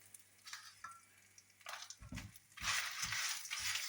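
Green and red chillies and lime leaves fry in a pan for a moringa leaf chammanthi podi. A soft crackle and stirring scrapes swell into a steady, louder sizzle.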